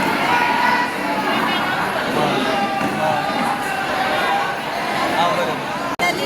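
A crowd waits at Ayodhya train station for an arriving train, with a dense, continuous babble of many voices and people talking close by.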